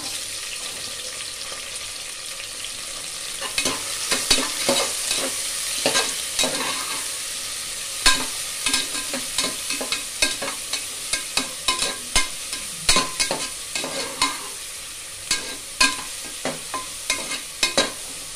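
Onions fry in a pan for a butter bean and potato gravy, with a continuous sizzle and repeated sharp spatula scrapes and knocks, close and loud, no voices.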